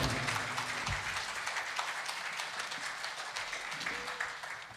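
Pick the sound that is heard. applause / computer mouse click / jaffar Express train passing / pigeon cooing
applause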